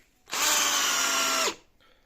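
A Parkside cordless drill-driver drives in a screw with one steady, close, high-pitched motor whine lasting about a second, its pitch dipping as the screw seats, followed by a faint click.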